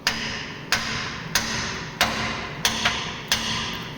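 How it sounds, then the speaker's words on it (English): A hammer strikes the frame of a 1997 Jeep Wrangler in a workshop, landing six sharp metallic blows at a steady, roughly even pace, fairly close and distinct over a faint background hum. "Somewhere around here I've got a hammer."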